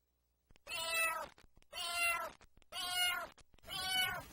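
Four drawn-out domestic cat meows in steady succession, each about a second long with short silent gaps between, close and clear with no other sounds.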